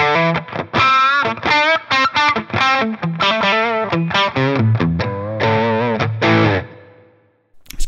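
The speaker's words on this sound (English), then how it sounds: "But here's the sound of Mike's crunch snapshot." Electric guitar through a Line 6 Helix crunch snapshot, loud and upfront, playing a run of picked chords and single-note phrases with distorted, effected tone, ringing out and then stopping near the end.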